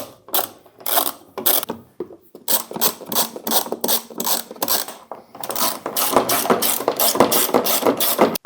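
Screws being driven into a washing machine housing with a power driver during reassembly, giving repeated short ratcheting, whirring bursts separated by brief pauses, close and fairly loud, with no talking.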